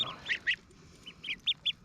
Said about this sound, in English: look at these Ancona ducklings